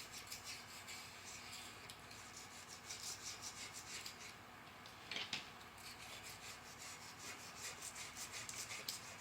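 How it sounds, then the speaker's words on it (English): A razor blade scrapes debris off the deck of a 5.3 engine block in a rapid, faint, scratchy rasping of repeated short strokes that runs on continuously. "you're basically just running that razor blade across there until that surface is, you can hear that scratchy sound"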